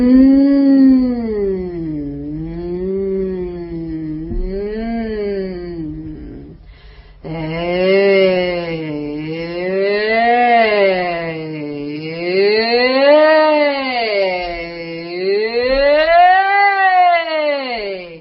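A single human voice hums in long rising and falling glides that imitate a wailing siren, loud and close, with a brief pause partway before the howling sweeps resume.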